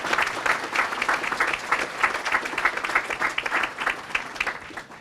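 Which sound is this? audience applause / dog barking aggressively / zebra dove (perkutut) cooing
audience applause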